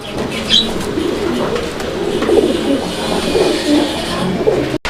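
A pair of racing pigeons coo close by, repeated low throaty rolling calls over steady background noise, with occasional brief chirps.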